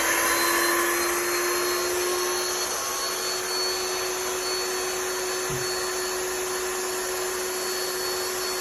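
The built-in air pump of an Aeri inflatable canopy runs with a steady, droning electric whine and constant airflow hiss, loud and unbroken throughout, with no talking.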